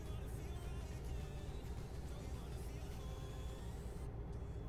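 Steady, loud low rumble of a lorry engine heard from inside the cab while driving, continuous road and engine drone with no breaks.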